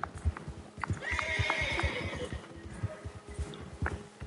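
A horse whinnies in a long, shrill neigh over steady clip-clopping hooves, with a shorter whinny following as the hoofbeats keep their rhythm.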